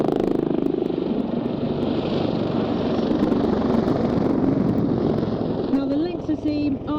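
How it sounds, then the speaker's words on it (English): A nearby Army utility helicopter at an airshow drones continuously with a rough, pulsing rotor chop from its blades slapping, loud and steady throughout, and a voice briefly speaks near the end. "You hear the blade slapping as it goes round."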